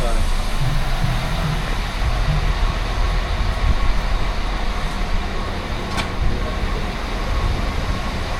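Continuous low rumble and rattling of a passenger train rolling through Czechia, heard from inside the carriage, steady and loud with a few faint knocks and some muffled speech underneath.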